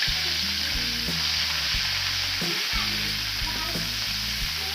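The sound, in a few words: sautéing spice paste with ground pepper in a pan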